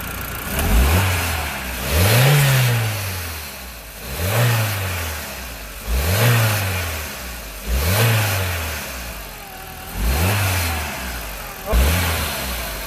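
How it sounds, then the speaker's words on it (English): An Audi TT MK1 engine, still on its stock airbox, revs up and drops back about seven times in an even rhythm, each loud rise falling to a steady idle between blips, close by. "Alright, we're going to give it a bit of a rev."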